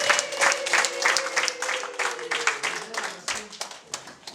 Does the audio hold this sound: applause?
yes